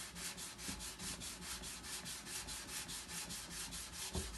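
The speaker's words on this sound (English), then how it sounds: "These are these sanding pads that are self-adhesive" Rhythmic back-and-forth sanding of a wooden music box with a self-adhesive sanding pad, steady scratchy strokes repeating about four times a second, close and continuous.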